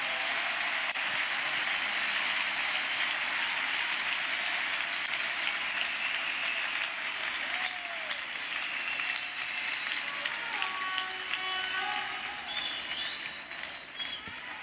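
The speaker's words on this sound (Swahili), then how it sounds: "Pigia Yesu makofi makubwa ya sifa." A church congregation applauds steadily at a youth conference service, a dense, continuous wash of clapping that fills the space throughout and eases slightly near the end, with no clear talk over it.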